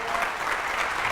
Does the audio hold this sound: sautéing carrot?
no